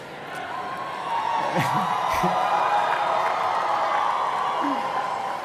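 Graduating medical and dental students at a university commencement ceremony cheer and whoop as a large crowd, a dense and sustained roar in a big hall, with scattered individual shouts rising above it.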